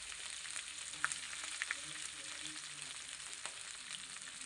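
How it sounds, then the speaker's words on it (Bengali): Onions and slit green chillies fry in hot oil with a faint, steady hiss, a few soft clicks of a spatula and pan standing out nearby, no voices. "পেঁয়াজ আর যে কাঁচা লঙ্কাগুলো চিরে রেখেছিলাম ওগুলোকে দিয়ে দিলাম"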